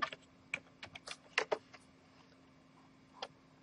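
Sparse, quiet keystrokes on a computer keyboard while entering a month and date into a PDF form opened in Word 2013, arriving as scattered single clicks and a short burst, with no talk.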